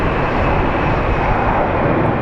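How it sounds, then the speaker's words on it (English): A Southwest airliner departs Phoenix Sky Harbor airport with a loud, steady jet engine roar that stays constant and fills the whole moment. "So now that traffic is departing, like this Southwest airline that's headed to Ontario,"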